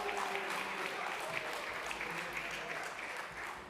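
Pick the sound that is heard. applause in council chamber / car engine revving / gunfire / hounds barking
applause in council chamber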